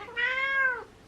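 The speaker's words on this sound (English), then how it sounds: "if you can hear them meowing in the background" A single drawn-out cat meow, clear and fairly close, rising then falling over about half a second, with quiet room tone around it.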